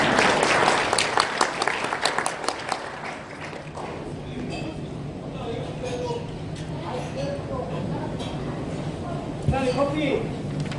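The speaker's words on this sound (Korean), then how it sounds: "김경일 교수님께 큰 박수를 받으십니다." An audience applauds Professor Kim Kyung-il before his lecture: a dense, loud burst of clapping that gradually thins and fades into a quieter room with scattered murmurs.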